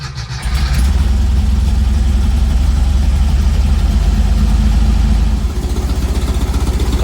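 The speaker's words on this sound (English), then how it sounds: "this is sounding a lot better. It's idling well." A car engine fitted with a new Pertronix coil idles loud and close, a steady low throbbing pulse that rises slightly in pitch after the first half second and dips a little near the end.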